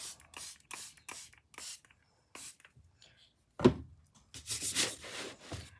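Repeated short bursts of hissing aerosol spray paint on a jigsaw puzzle, several quick puffs followed by a longer sustained spray near the end.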